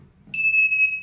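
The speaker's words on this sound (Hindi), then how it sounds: "यहाँ पर ये बीप कर रही है, ये देखिए।" A handheld metal scanner beeps with a steady, high electronic tone on detecting a metal nail, starting abruptly after a brief quiet and holding continuously to the end, loud and alone.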